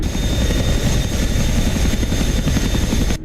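A Hind helicopter hovers in the DCS World flight simulator game, its rotor producing a loud, continuous rhythmic thudding beneath a steady turbine whine, then cutting off abruptly at the very end.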